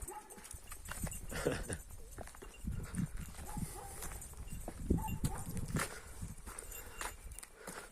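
Dogs bark in scattered bursts at moderate distance, mixed with shuffling and footstep-like sounds.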